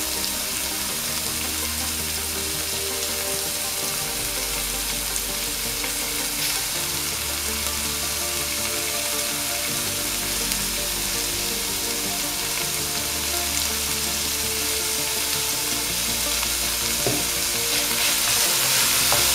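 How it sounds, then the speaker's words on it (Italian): Chopped meat sizzling and frying in a large pot for chili con carne, a steady, close, loud crackle and hiss that lasts throughout, with stirring heard over it. "vado ad aggiungere la carne spezzettandola un pochino in modo da farla soffriggere un po' anche quella"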